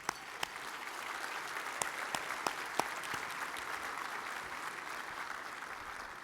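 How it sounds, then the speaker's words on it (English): Fairly quiet applause from an awards ceremony audience in a room: a few sharp, close individual claps stand out early over a soft, steady wash of clapping that continues evenly. "let's please give them a warm welcome and a round of applause."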